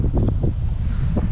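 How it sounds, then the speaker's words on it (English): Gusty outdoor wind roars against the microphone in San Antonio, a loud, steady low-pitched buffeting with brief rustling flares and a faint voice. "That's how windy it is."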